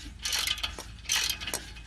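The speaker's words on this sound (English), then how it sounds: "So I just want to chase these threads," A hand ratchet chases the threads on an exhaust flange, giving two close, fairly loud bursts of quick metallic clicking, each followed by a brief sharper ratchet rasp, with no talking.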